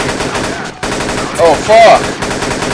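Rapid machine gun fire crackles through a Battlefield 2 Black Hawk Down mod match, a loud dense burst that briefly drops out, while a man exclaims over it.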